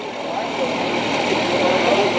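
Steady broadband roar of a black private jet engine running at Camarillo airport, continuous and fairly loud throughout with a faint voice over it.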